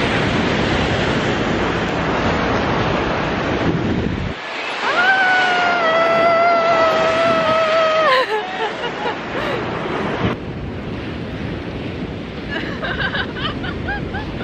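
Steady surf washes over a beach in Busan as light rain begins, with wind buffeting the microphone; a voice hums a sustained tone partway through.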